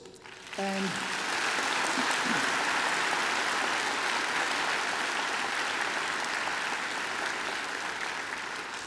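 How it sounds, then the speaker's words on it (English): A graduation audience gives singer Angela a big round of applause. Clapping swells in sharply after a brief spoken word and holds as a dense, sustained roar before easing slightly at the end. "she deserves another great round of applause"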